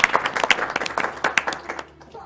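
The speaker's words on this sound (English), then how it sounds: "A round of applause for yourselves." An audience at Awesome Games Done Quick 2014, a live gaming marathon event, applauds briefly, a burst of dense clapping that fades out within two seconds.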